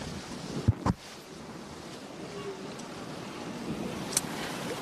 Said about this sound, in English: It's lovely and windy out here today.